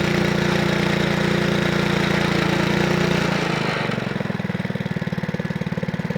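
A Lawnflight ride-on lawn mower engine idles steadily and close, its low throbbing hum shifting to a slower, pulsing rhythm partway through, with no voices.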